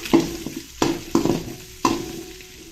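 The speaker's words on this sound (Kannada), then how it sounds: "ಇದನ್ನು ಸ್ವಲ್ಪ ಚೆನ್ನಾಗಿ ಫ್ರೈ ಮಾಡ್ಕೊಳ್ಳೋಣ ಈರುಳ್ಳಿ ಸ್ವಲ್ಪ ಟ್ರಾನ್ಸ್ಪರೆಂಟ್ ಆಗೋವರೆಗೂ ಇದನ್ನು ಸ್ವಲ್ಪ ಫ್ರೈ ಮಾಡ್ಕೊಳ್ಬೇಕು" Onions and curry leaves frying in a pan, a soft steady sizzle punctuated by four sharp scraping clanks of a spoon stirring against the metal, close and without speech.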